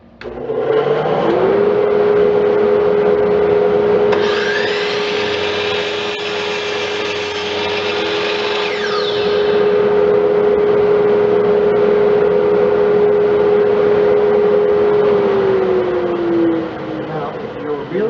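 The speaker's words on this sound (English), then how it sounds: "I'm going to turn the vacuum on and make that cut." A mitre saw cuts wood with a shop vacuum running, the vacuum's steady roar carrying a high motor whine as the blade spins up, bites through the board, and winds down.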